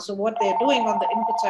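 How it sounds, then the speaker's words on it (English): A phone rings repeatedly through a webinar presenter's speech, its steady tonal ring sitting close under the continuous talking. "excuse my phone that's ringing"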